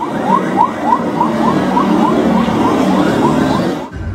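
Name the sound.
ship siren blaring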